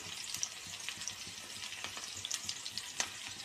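Garlic, chili and asafoetida sizzle in hot oil for mung dal with fenugreek greens, a steady crackling fry with scattered sharp pops and occasional stirring clicks, close and moderately quiet with no talk.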